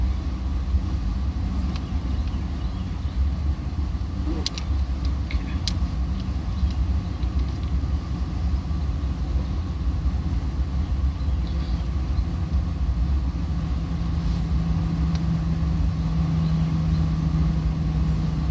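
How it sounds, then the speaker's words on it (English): Steady low traffic rumble of cars passing outside, a continuous background drone with no distinct individual pass-bys and no speech. "You'll probably hear some cars in the background."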